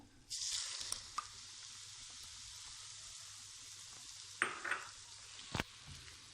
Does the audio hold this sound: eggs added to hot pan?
yes